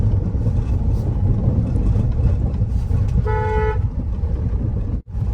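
A Maruti Suzuki car engine rumbles steadily from inside the vehicle, with a short horn toot about midway and a brief dropout near the end.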